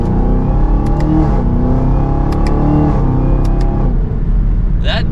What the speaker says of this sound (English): we'll give it another acceleration once we straighten out